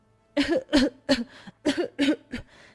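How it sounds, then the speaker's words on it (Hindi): A child coughs in six short, harsh bursts, close and fairly loud, in two clusters with brief pauses between. "तभी उस बच्चे को खांसी आने लगी।"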